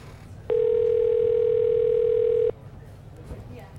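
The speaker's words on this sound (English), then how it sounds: "here it is. It's ringing." A steady electronic tone sounds alone for about two seconds as a telephone rings on an outgoing call to a radio show, with quiet background noise before and after.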